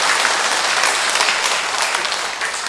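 A church congregation at Sunday Mass claps in congratulation for parishioners celebrating their feast day, loud, dense and continuous applause close by, easing slightly at the end.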